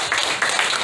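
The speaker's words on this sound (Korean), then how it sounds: "박수하겠습니다" Congregation clapping briefly inside a church, a short burst of close, bright applause.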